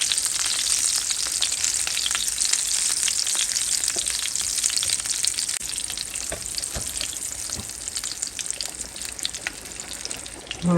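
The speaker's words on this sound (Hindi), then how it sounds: "थोड़ा इनको हम भूनेंगे" Spice-stuffed Hyderabadi eggplants fry in a pan, giving a dense, continuous close sizzle with crackling spatters and occasional stirring, all without any speech.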